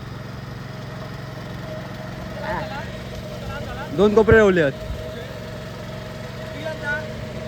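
A farm tractor's engine drones steadily at a low, constant pitch throughout, close by, while a person briefly speaks over it.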